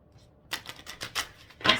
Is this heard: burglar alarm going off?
no